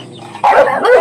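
Dogs bark at home in two quick, loud, close barks, one right after the other.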